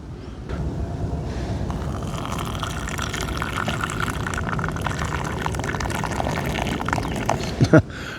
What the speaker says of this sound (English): Let's see if I'm able to pour out of this too.